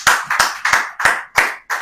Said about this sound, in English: another round of applause for that insightful presentation